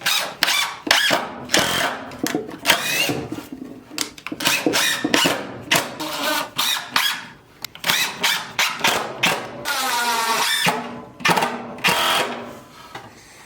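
A power drill drives screws to fasten a board into a wooden router leveling jig box, the motor whirring in short, loud bursts that rise and stop repeatedly up close.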